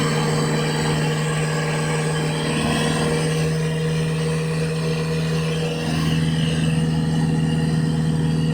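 A 1.9L ALH diesel VW Jetta MK4 idles with a loud exhaust that has holes in the rear section, giving a steady, close, rumbling drone with strong low hum throughout. There is no talk.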